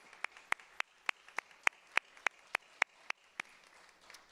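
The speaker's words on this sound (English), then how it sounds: "Give yourselves a round of applause." Graduates at a university college of education teacher pinning ceremony clap in a quiet hall: about a dozen separate, crisp hand claps land in a slow, even rhythm, with soft room noise between them.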